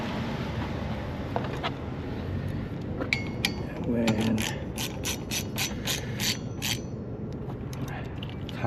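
Ratchet wrench clicking as the windshield wiper arms are tightened on a 2017 Chevy Cruze, a quick run of sharp close clicks over a low outdoor rumble.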